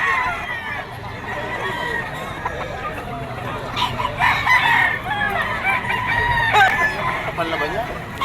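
A 2.5-year-old San Lemon yellow-legged rooster crows repeatedly at a busy poultry market in Bocaue, Bulacan, its calls rising over clucking fowl and a steady babble of nearby voices.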